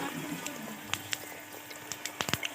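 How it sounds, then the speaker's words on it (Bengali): Gur pitha fry in hot oil, giving a soft, steady bubbling with scattered sharp pops and crackles, fairly faint and without talk. "তেলটা আমার খুব ভালোভাবে গরম হয়ে গেছে। আমি এবার এগুলো ভেজে নেব।"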